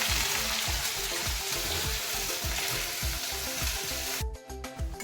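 Masala sautéing in a pan for dhaba-style egg curry, a continuous dense sizzle with a rhythmic low thumping beneath it, changing to a thinner, quieter texture in the last second.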